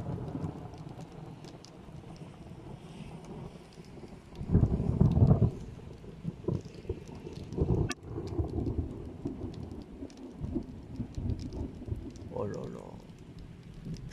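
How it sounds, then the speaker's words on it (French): Strong August thunderstorm over Saint Marcel lès Valence in the Drôme, with steady rain, a heavy rumbling thunder roll midway and a sharp crack soon after, while someone talks intermittently. "Qu'est-ce que c'est que ces orages?"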